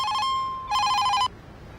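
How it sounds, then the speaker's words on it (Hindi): Telephone rings in two bright electronic trilling bursts with a short gap between them, close and clear with no talk. "भाई फोन उठाओ प्लीज।"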